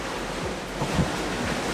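Wind and breaking waves rush steadily around an Outremer 52 catamaran sailing in gusty conditions at sea, a loud, continuous broadband roar with brief swells of surge.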